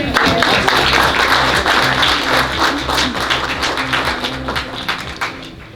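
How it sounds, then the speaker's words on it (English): A dense, steady audience ovation fills an awards gala dinner hall with continuous loud clapping that tapers slightly toward the end. "Another round of applause."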